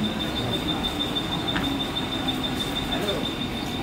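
Mumbai local train at a station platform, a steady broadband rumble of the train and platform noise with a thin high whine running throughout, loud and continuous, with station announcements faintly in the background.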